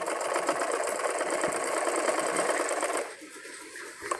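A sewing machine stitches a thick seam along a child's dress neckline, running close and steady for about three seconds before slowing and stopping.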